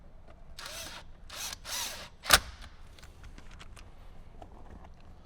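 A cordless power drill drives screws to mount an Alpine head unit display in a Jeep Wrangler JL: a few short whirring bursts, then a sharp click, all close and fairly quiet.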